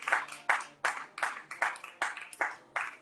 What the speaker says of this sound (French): Applaudissons pour la gloire de notre Dieu.